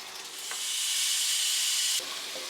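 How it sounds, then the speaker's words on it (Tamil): Paneer seasoned with chili powder and salt fries in butter in a pan, giving a steady, close sizzling hiss that swells and then cuts off abruptly, with faint crackles afterward. "இதில் பன்னீரில் வந்து லைட்டாக காரத்தூள் உப்பு போட்டு பட்டரில் ஃப்ரை பண்ணிக்கிட்டேன்."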